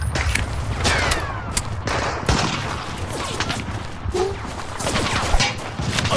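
Heavy video game gunfire in dense, continuous bursts of rapid shots and booms, loud and close throughout with no pauses.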